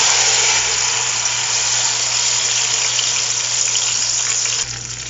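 Tomato paste spits and hisses in hot ghee as pulao cooks, a loud, dense, steady frying sizzle that fills the whole stretch, easing slightly near the end.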